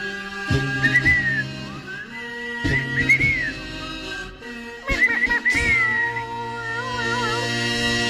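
Someone whistles short melodic phrases with sliding notes, pausing between them, over sharp percussive hits and sustained background tones.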